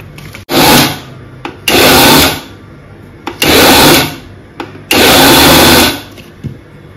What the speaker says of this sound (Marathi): मिक्सर मध्ये आपण वरीचे तांदूळ घेऊन घेणार आहोत, आणि ह्याला थोडंसं बारीक करून घ्यायचं आहे